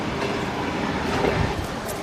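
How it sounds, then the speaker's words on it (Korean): A trans-Siberian train arriving at a station rumbles steadily with a broad rushing roar and faint clatter of wheels, fairly loud and continuous throughout. "횡단 열차가 또 다른 역에 도착했다."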